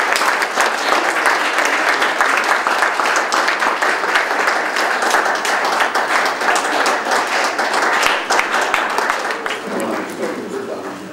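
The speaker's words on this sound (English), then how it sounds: "Please keep clapping for them." Audience applauding beauty pageant contestants as they leave the stage, dense sustained clapping from a large crowd that holds steady and then begins to thin and fade near the end, with a voice speaking over it.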